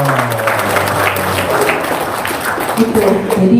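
An audience claps in a dense burst of applause at a talk, loud and close, with a voice speaking over parts of it.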